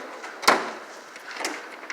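A drawer on a Matco JSC480 roll cart toolbox slides with a sharp metallic clack near the start, followed by fainter rattles and a second softer knock.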